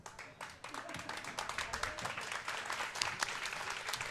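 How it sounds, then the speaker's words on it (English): Spectators applaud after a well-played curling game at the 2015 Elisabeth Child's Challenge final, a steady wash of many hands clapping in an arena, fairly distant and sustained throughout without a break. "lots of clapping for a well-played game"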